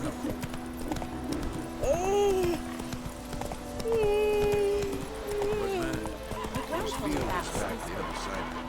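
Roach the horse's hooves clop steadily along a path in The Witcher 3, with whinny-like tones and people talking over the hoofbeats.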